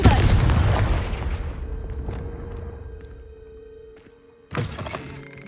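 A Confringo blasting spell in the wizarding game Hogwarts Legacy, heard as a loud booming explosion at the start that fades into a long decaying rumble, followed by a second sharp blast near the end.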